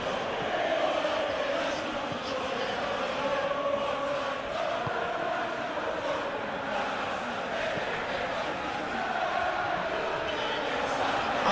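A stadium crowd in the PES 2021 football video game roars steadily in a broad, continuous wash of cheering that holds at the same level throughout.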